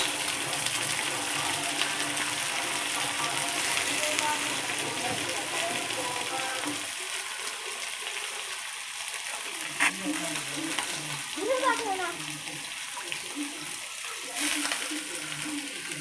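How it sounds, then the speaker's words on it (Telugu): Chicken liver fries in a pan (bandi) after onions have browned, making a continuous sizzle that drops and returns with stirring and scraping, under faint talking. "చికెన్ లివర్ వేసుకోవాలి బాండీలో"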